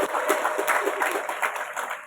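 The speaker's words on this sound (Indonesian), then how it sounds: "Beri tepuk tangan bagi Tuhan Yesus." A crowd at an outdoor evening church revival on a field in Moru claps in praise, a dense, steady patter of many hands throughout.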